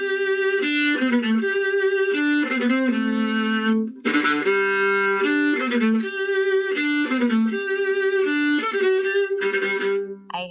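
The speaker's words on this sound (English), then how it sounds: "And I play the viola." A viola plays a melodic line of sustained bowed notes with rich harmonics, close and loud, with a brief pause near the middle and no talking.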